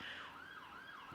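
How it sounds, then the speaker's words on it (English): A passing emergency vehicle siren on a London street, its rising and falling wail sweeping smoothly up and down, heard alone at moderate distance with a faint background hum. "Let the siren go past."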